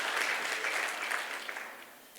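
An audience at a university memorial lecture by the U.S. Secretary of the Interior claps in a dense, steady burst that gradually fades toward the end.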